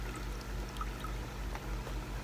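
Water is poured gently into a small container to swish ram fish fry in, a soft trickling splash close by without any talk.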